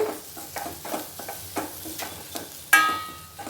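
Carrot fry sizzles in a pan while being stirred, soft frying hiss punctuated by regular spatula scrapes and clacks, with one sharper metallic clang near the end, close and without talk.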